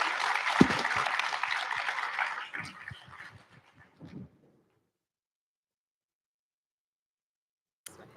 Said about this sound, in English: If we can have a round of applause for our panelists